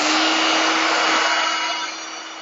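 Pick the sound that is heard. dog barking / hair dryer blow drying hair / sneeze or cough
hair dryer blow drying hair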